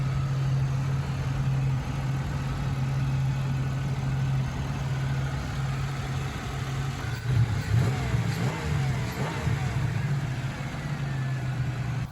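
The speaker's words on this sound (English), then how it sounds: "It's got a nice grumbly idle to it." The 3.8-litre engine of a 2003 Pontiac Grand Prix Limited Edition idles with a steady low grumble, then a few revs rise and fall midway before it settles back to idle.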